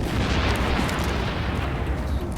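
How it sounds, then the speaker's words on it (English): Gunfire in the video game The Division sounds as a dense, continuous roar of booming shots and explosive bursts, loud and rumbling with no clear gaps. "I hear gunfire."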